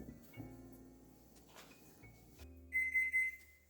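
Kitchen timer alarm rings near the end in three quick bright beeping bursts, loud and close, after quiet kitchen background noise while pumpkin magic bars bake in the oven.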